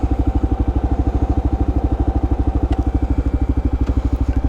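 A Kawasaki KLR650 dual-sport motorcycle idles in the woods near Broaddus, Texas, its single-cylinder engine thumping in a steady, even, close-up rhythm with no other sounds.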